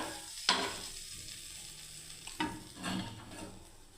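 Mixed vegetables hit a hot pan with a loud sizzle and are tossed in a steady stir-fry, with a couple of sharp utensil scrapes over the continuous frying hiss.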